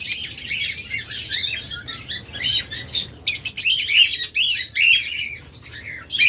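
Close, busy chirping and sharp squawks come from a pair of lovebirds, one red-eyed and one black-eyed, in a bird-sale setting, with short, irregular bursts and brief pauses.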